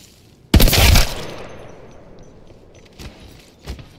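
A mid-range Volt SMG in the shooter Apex Legends lets off a loud, short burst up close, then the echo tails off, followed by two fainter distant shots.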